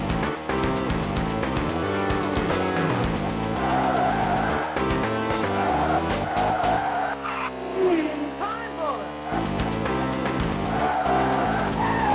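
A race car in Virtua Racing Deluxe on the SEGA 32X skids and slides out, its tires squealing over a whining engine and busy game music before the run settles back to steady engine drone.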